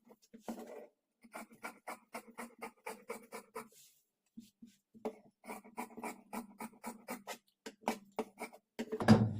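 Scissors cut along the marked outlines of deep-neck blouse fabric in a steady run of quiet, rhythmic snips, with a short pause partway through.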